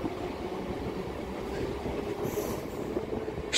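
The Howrah-Haldia galloping local train pulls out of Mecheda station with a steady rumble of wheels on rails, faint squeals and rhythmic clatter, heard from on board and growing slightly louder at the end.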